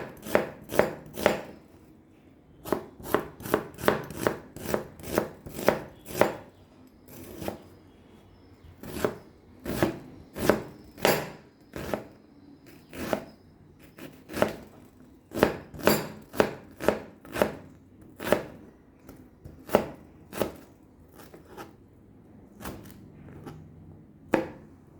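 A knife chops ingredients on a cutting board for a watermelon salad with feta, in quick bursts of sharp, close strokes separated by short pauses throughout.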